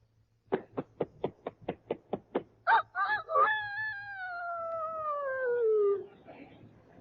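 A voice on a 1939 radio amateur-hour broadcast imitates a year-old rooster crowing: a run of quick clucking bursts building into a long, drawn-out crow that slides downward and fades.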